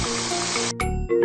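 Water sprayed to cool an injured animal in a mobile animal-care game, a steady hissing spray that cuts off, followed by brief chimes and game sound effects.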